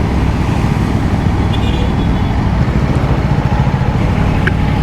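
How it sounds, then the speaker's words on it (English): Road traffic heard from an Aprilia Tuono V4 Factory motorcycle amid rain, a loud, steady engine and road rumble close by with a broadband hiss and no speech. "Damn this traffic, man."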